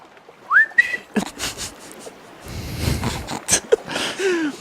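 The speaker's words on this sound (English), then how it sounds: "Let's try it one more time with whistling." A person whistles a short, sliding tune in a tough high register, with isolated whistled notes scattered among clatter, breaths and noisy bursts.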